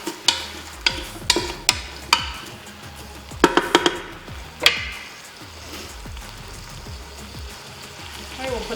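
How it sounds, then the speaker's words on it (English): Wooden spoon scraping and knocking against a non-stick pot insert while stirring chilli con carne in a CrockPot Express XL pressure cooker, a quick run of sharp clacks then softer, steady stirring with faint sizzling underneath. "using a wooden spoon so that you don't damage your non-stick insert"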